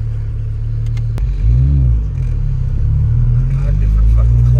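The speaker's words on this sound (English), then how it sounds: "Alright guys, getting the first ride in the Type R." Ride inside a Honda Civic Type R as it pulls away, a loud close engine drone and road rumble swelling through the run, with a single sharp click early and a voice briefly speaking.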